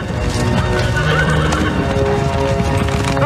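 A Clydesdale horse gives a loud, close neigh, while hooves clip-clop faintly underneath.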